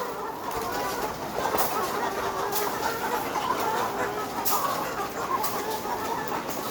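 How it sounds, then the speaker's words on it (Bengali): A dense, steady chorus of clucking from thousands of hens at a poultry farm as they peck at freshly delivered feed, a constant crowded hum with occasional sharper calls rising above it. "এই মাত্র করে ফিড দেওয়া হয়েছে, সেই জন্য এখন দানা খাচ্ছে মুরগি।"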